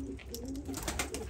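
Baska pigeons among a group of young birds cooing softly in a loft, a low repeated throaty murmur layered with faint rustling and background noise throughout.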